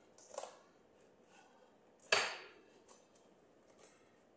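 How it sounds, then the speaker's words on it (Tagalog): Plates clinking as they are taken out from a stack, a few sharp ceramic knocks with one louder clatter in the middle, close and otherwise quiet. "Maraming pinggan. Ito pa kinakuha na maliit."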